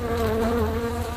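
Flies buzz loudly and close in a steady, droning hum with a wavering pitch, alone without talk.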